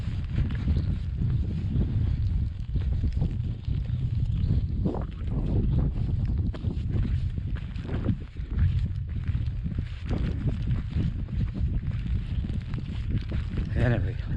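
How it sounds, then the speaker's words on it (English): Cold wind roars across a mountain summit during hailstones, a continuous heavy buffeting rumble pressing on the microphone throughout, loud and unbroken with no voices. "Quite a cold wind."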